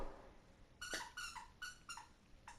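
A dog plays with a squeaky toy, making a series of sharp, high, whistling squeaks in short bursts of about half a dozen, fairly quiet and close.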